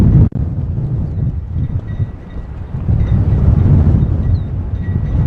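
Strong wind blows steadily outdoors near pine trees, a loud continuous low rumble and buffeting that fills the whole stretch, with a brief dropout near the start and no speech.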